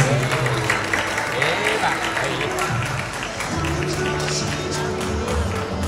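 Guests applaud at a Malay wedding reception in a hall, a broad wash of clapping running steadily under background music and voices throughout.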